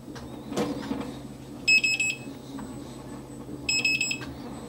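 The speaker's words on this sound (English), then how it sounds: "But I'm getting a weird beeping." A Super Ride S1000 electric unicycle with a DIY range extender battery beeps after being powered on, giving two short clusters of high electronic beeps over quiet room background.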